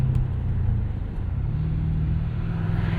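A 1998 Lexus GS 400 V8 with a Megan catback exhaust rumbles low and steady close by, the deep exhaust note reflecting off nearby brick walls.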